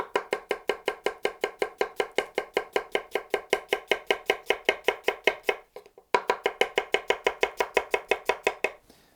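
A Moritaka Honesuki, a traditional Japanese boning knife, chops rapidly on a cutting board, close up in an even rhythm of about four crisp knocks per second, with one brief pause midway and no talking.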